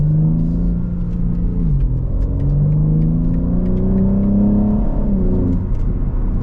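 Inside a BMW M3 fitted with a new exhaust, the engine pulls hard through a rising, droning rev, drops briefly on a shift, then climbs again as a loud, steady rumble fills the cabin.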